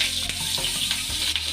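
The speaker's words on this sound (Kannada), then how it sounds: "ಈ ಫ್ರೈ ಆಗಿರೋದಕ್ಕೆ 1 ಗೆಡ್ಡೆ ಈರುಳ್ಳಿನ ಹಾಕೋತಾ ಇದ್ದೀನಿ, ಸಣ್ಣ ಕಟ್ ಮಾಡಿ. ಇದು ಕೂಡ ಎಣ್ಣೆಯಲ್ಲಿ ಫ್ರೈ ಆಗಬೇಕು" One finely chopped onion frying in hot oil for a green egg gravy, giving a steady, close hiss of sizzling with a few soft clicks from the pan.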